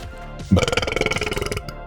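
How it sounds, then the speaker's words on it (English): A single loud, drawn-out burp after drinking root beer, rumbling and bubbly for over a second, close to the mic with no speech. "Oh, no, I'm going to burp."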